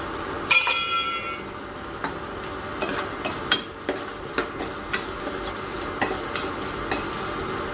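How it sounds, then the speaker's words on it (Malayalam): A spoon stirs mustard powder into a white lemon pickle in a hot pan with fried ginger, making a soft sizzle under repeated light metallic clinks and scrapes at a steady, unhurried pace. "ഇനി ഇതിലേക്ക് നമുക്ക് നമ്മളെടുത്ത് വെച്ചേക്കണ കടുക് പൊടി ഇടാം."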